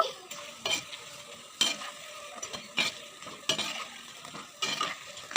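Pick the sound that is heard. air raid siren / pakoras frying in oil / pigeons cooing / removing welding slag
pakoras frying in oil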